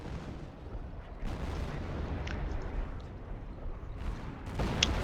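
Hummel self-propelled artillery firing in the strategy game Company of Heroes, with low rumbling booms and distant blasts rolling together under battle noise, a few sharper cracks near the end.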